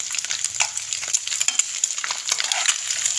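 Eggs fry for egg paratha in a pan over a medium flame, giving a steady close sizzle with faint scraping and stirring taps and no voices.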